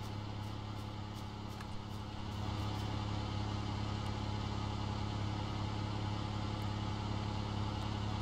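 Fuel generator engines run steadily in the factory game Satisfactory, a continuous low mechanical hum and drone that holds level throughout with slight ticking on top.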